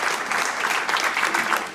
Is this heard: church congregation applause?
yes